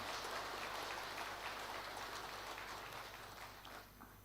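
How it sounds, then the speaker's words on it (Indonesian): A large formal audience applauds the President of the Republic of Indonesia, a dense, hissing wash of many hands that holds steady and then gradually fades toward the end. "Tepuk tangan yang meriah untuk beliau."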